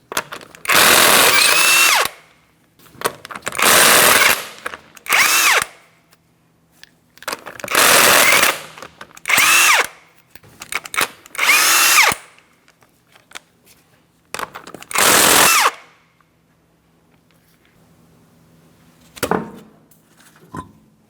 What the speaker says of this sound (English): remove all 5 of your 19mm lug nuts so we can get the wheel off of here